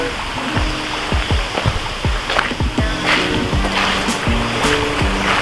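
Creek water rushes steadily along a hiking trail with spring runoff near Goode's Basin, Kelowna, BC, a broad continuous wash with small splashy bursts, close and fairly loud with no talking.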